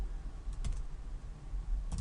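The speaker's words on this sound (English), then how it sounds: "I'm going to start typing an input tag" Computer keyboard tapped with a few sparse soft keystrokes, one near the start and a short cluster at the end, faint and close over a low steady room hum.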